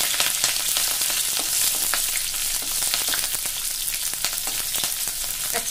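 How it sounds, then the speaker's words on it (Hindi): Chopped chilies and garlic cloves crackle and sizzle in hot oil, a loud continuous frying hiss dotted with sharp pops, close up with no talking. "अच्छी प्रकार से मिर्ची तड़क गई है"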